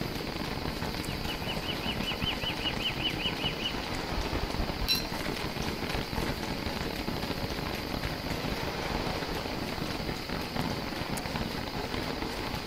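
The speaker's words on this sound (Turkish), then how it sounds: "Yahu bu yağmur ne zaman duracak ya?" Steady rain patters across the ground in Don't Starve: Reign of Giants, a dense, even hiss that runs unbroken from start to finish with a few faint game chimes and clicks over it.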